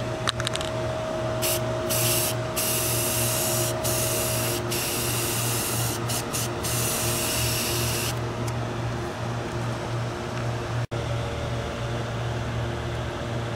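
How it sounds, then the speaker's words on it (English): Bursts of John Deere Green spray paint hiss from an aerosol can onto hydraulic cylinders, several short sprays followed by a long continuous one, over a steady mechanical hum. "They are now ready for a couple coats of the John Deere Green spray paint."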